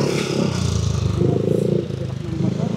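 A motorcycle engine drones steadily close by on a San Mateo road during a pedal-assist e-bike commute, its loud continuous hum blended with rattle and wind, with a voice talking over it.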